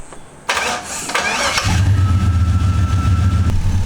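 A starter whirs briefly, then a Jeep's LS engine with custom exhaust catches and settles into a loud, steady idle close by.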